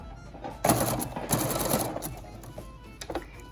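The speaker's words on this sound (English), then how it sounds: "And get sewing." A sewing machine stitches a homemade filtered fabric face mask in quick bursts, a loud run of rapid needle clatter followed by shorter, softer spurts and a pause.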